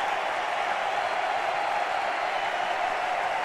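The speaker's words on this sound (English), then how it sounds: "The crowd is going nuts" A baseball stadium crowd of over 19,000 cheers and applauds a home run hit by an Expos pitcher in his first major league at bat, giving a steady, dense roar that stays even from start to finish.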